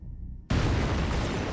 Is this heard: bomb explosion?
yes